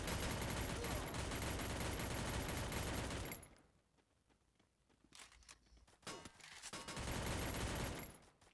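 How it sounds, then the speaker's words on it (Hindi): Bursts of rapid automatic gunfire crackle loudly in a Free Fire solo match, then break off into quieter footsteps and scattered shots before another dense volley of fire erupts. "मैंने इतनी गोलियां मारी यार"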